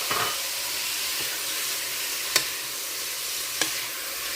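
Onion and cumin sizzle and fry steadily in a hot pan for green chili, a continuous hiss broken by two sharp stirring clicks.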